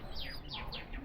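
A pigeon chick gives four quick, thin, falling peeps in a row, faint and close, against a soft background.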